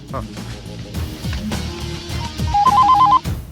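A phone's ringtone trills in short repeated bursts near the end, over background music and a low hum.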